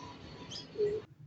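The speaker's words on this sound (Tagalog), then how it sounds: "Ayan na mga kaibon, dumapo na" A racing pigeon coos close by with one short, low, throaty call, followed by a brief higher chirp from the birds arriving at the loft in Candelaria, Quezon.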